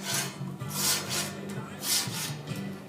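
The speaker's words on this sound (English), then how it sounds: "I don't know if many of you have grill floss, but I'll tell you what, it works great on 3/8 stainless." Grill floss scrubbing stainless steel kamado grill grates, a close, steady back-and-forth rasping scrape in repeated strokes with no talking.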